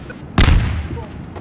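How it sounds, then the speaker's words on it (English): A grenade exploding in the Garry's Mod video game, one sudden loud close blast that decays into a rumbling tail over about a second. "Grenade."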